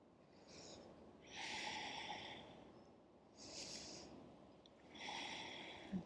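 Deep, slow breathing while holding a yoga humble warrior pose: three long, soft airy breaths in a steady rhythm, close and quiet, with no talking.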